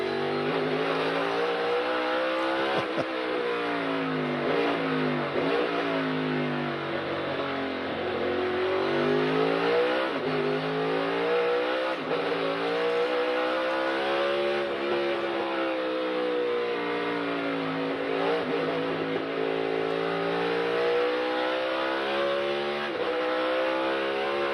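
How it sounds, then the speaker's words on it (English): A NASCAR race car engine roars continuously, revving up and down through gear changes during a 2022 Toyota / Save Mart 350 practice and qualifying lap, loud and close throughout. "So Kurt just starting his lap now in his 45 car."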